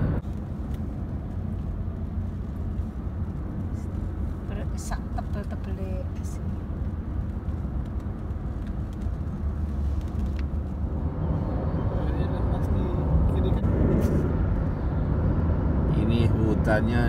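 A car driving on a snowy road to Lake Tahoe, its engine and tire noise a steady low rumble from inside the cabin, growing slightly louder toward the end, with people talking over it.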